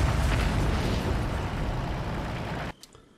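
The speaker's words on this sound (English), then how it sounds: "I don't even need to look at the explosion." A loud, broad explosion from the Resident Evil 4 castle level roars for nearly three seconds, then cuts off abruptly into faint debris and crackle.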